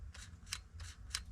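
A chainsaw's throttle trigger is pressed, working the carburettor butterfly: four faint, short mechanical clicks spaced about a third of a second apart, close by, over a low steady hum, with no talking.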